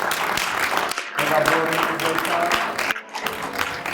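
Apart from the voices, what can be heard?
audience applauding a graduate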